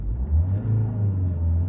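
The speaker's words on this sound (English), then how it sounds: "Now I'm going to give it a quick rev." A 2013 Ford Mondeo Titanium X hatchback with a 2.0 TDCi diesel engine gets a quick rev, a deep, steady rumble that swells briefly and then settles back to a low idle drone.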